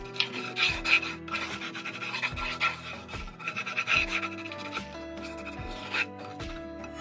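Metal utensil scrapes stuck scrambled egg bits around the edge of a cast iron skillet in repeated rasping strokes, close and steady at a rhythm of roughly one per second.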